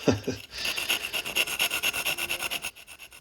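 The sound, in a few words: scraping excess material against tile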